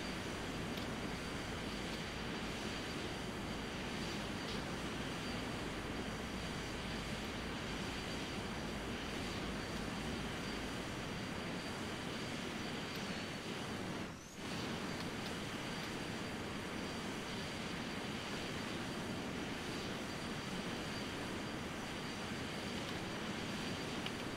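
An airplane in a flight simulator game takes off from the runway, its engine a steady, broad roar that holds constant for the whole stretch, broken only by one brief dip midway, with no talking.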